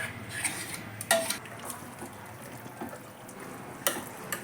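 A spoon stirs boti (goat tripe) curry with a green paste in a metal pot, producing soft wet scraping and intermittent sharp clinks against the rim, close and fairly quiet.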